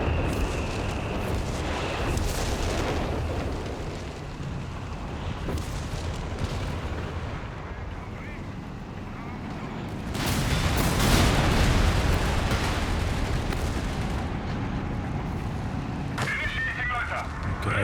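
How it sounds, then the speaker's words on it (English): A constant roar of artillery from walking Stuka rocket launchers, Canone and Vespe guns pounding the middle of the Sousse map in a 4v4 Company of Heroes 3 match, with rumbling booms that swell near the end and a voice talking over it. "It's just a never-ending wave of artillery though, with the walking Stukas, Canone, and Vespe all targeting the middle"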